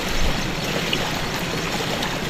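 Water rushes and sloshes steadily around people doing yoga in the water, a dense, continuous wash of sound with no talking.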